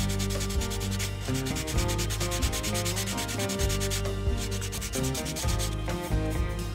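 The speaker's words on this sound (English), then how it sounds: "I'm still going to take a little sandpaper here and just rough up the area between the 2 marks" Sandpaper rubs over an Estes Generic E2X rocket body tube, roughing up the glossy surface in a steady, continuous back-and-forth scratching, close and clear with no talking.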